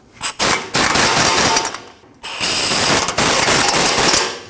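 A ratchet tightens the brake caliper bolts on a Nissan NV2500 front hub: loud, close bursts of rapid clicking, a short pair of strokes, then a longer run after a brief pause.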